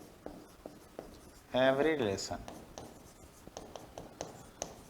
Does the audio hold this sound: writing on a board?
yes